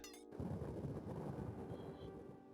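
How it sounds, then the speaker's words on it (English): Deep rumbling thunder from the video game Tanglewood rolls out after a short tonal blip and keeps going for about two seconds, low and fairly faint. "Oh, nice thunder."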